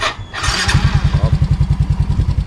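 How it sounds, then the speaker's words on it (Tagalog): A motorcycle engine idles while warming up, its low, steady chugging pulses close and loud after a brief rev at the start, running on alone without talk. "Akin lang pinapainit ang motor."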